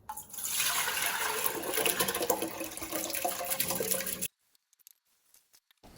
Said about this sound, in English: I'm filling up the water up to the 5 line